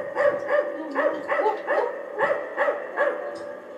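A cartoon dog barks in a Spanish-language children's song, with about eight short, rhythmic barks repeating every half second over steady musical backing.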